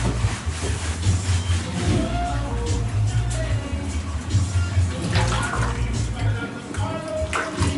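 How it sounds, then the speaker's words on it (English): A shower runs steadily in a small bathroom, a continuous broad hiss of falling water with a low rumble of pipes underneath and occasional faint clatter. "I think it's time to run the shower."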